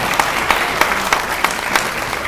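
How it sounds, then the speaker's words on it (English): An audience at a televised community event applauds, a brief, dense burst of many hands clapping at moderate distance, continuing evenly without talk. "And again, a round of applause for Mackenzie"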